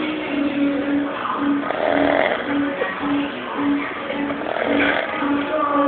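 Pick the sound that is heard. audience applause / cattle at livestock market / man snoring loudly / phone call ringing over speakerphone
man snoring loudly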